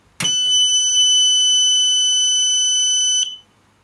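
One loud, piercing electronic beep from a Prometheus Pro 1 kiln controller begins with a click and holds steady for about three seconds before cutting off, close and shrill.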